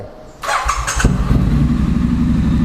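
A Triumph Street Scrambler motorcycle's engine is cranked by the starter, catches and settles into a loud, steady, throaty idle close by, with no talking over it.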